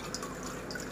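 Water is added to an Aquario NEO FLOW aquarium tank, a brief, steady trickling pour with light dripping and splashing, fairly close and alone.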